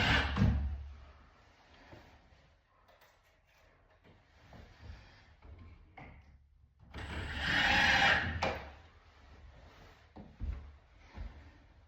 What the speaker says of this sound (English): finish screwing this one off.